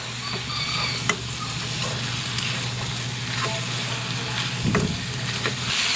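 Meat for kaldereta browns in a hot pan, giving a steady loud sizzle with occasional stirring scrapes and clicks throughout.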